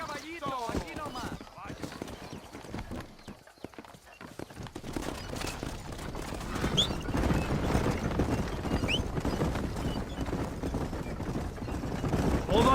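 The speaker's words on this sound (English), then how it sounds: "Are you going to ride with me? Vamos, caballo vago." A horse gallops in Red Dead Redemption with steady clip-clop hoofbeats and a whinny, running beneath near-constant talking, with faint gunfire in the background.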